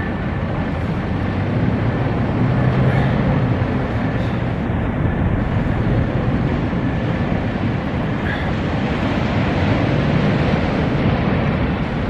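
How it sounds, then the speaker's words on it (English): Two-stroke outboard motors on boats idling near a sandbar crossing, producing a continuous loud, rough engine drone with little change over the whole stretch and no talk. "He's trying to get the motors to warm up so that they don't need the choke to run."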